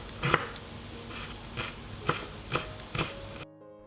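A knife chops small onions on a cutting board in a home kitchen, five or six distinct sharp thuds spaced irregularly, close and moderately loud over a faint background hum.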